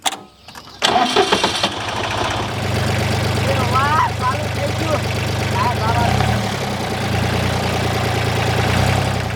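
A tractor engine cranks and catches after a few sharp clatters, then settles into a steady, loud, low diesel idle that runs on with slight variations in pitch.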